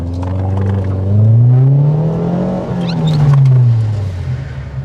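A car engine roars and revs hard during a stunt-driving manoeuvre in a braking box, rising and falling in two loud, close surges. Tire and drivetrain whine sweeps through the pitch changes.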